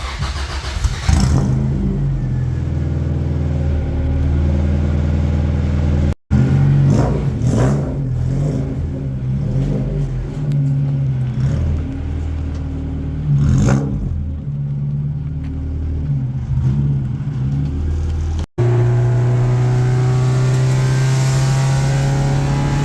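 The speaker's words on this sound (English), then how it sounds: "we're gonna go take it for a test drive to see if it fixed it, or at least made it better" A Honda Integra with a Type-R big brake conversion, ABS delete and K-series swap drives on a test run, engine droning and revving through gear changes, loud and close inside the car.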